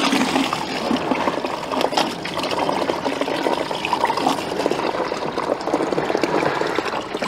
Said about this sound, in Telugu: దీంట్లో వాటర్ వేసేద్దాం.